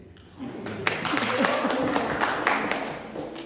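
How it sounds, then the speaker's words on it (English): A lecture audience breaks into clapping after a brief quiet moment, the applause swelling quickly and holding as a steady, moderately loud patter of many hands until the end. "that's why you clap hands for me"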